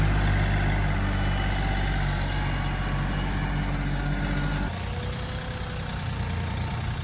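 A Coyote tractor engine runs steadily with a deep, close, continuous rumble, and the pitch and texture shift slightly about two-thirds of the way through.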